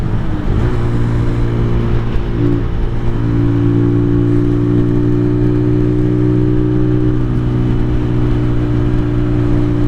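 A 2023 Venom SS3 KP mini 150 motorcycle engine running lean holds a loud, steady droning hum with a brief rise in revs near the start, held below full throttle during a first ride.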